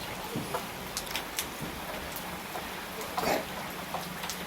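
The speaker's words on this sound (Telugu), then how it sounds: "మాకు రాత్రి నుంచి వర్షం ఫ్రెండ్స్ ఫుల్ వర్షము" Rain falls outside a house after a night of downpour, a soft continuous patter with scattered sharper drips and splashes, fairly faint and without talk.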